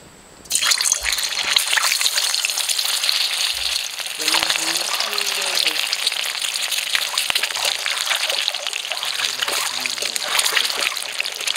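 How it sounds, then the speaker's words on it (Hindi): Egg and potato frying in a pan at a riverside cave campsite, a constant loud sizzle and spatter running throughout, with faint voices now and then. "अंडा और आलू फ्राई हो चुका है"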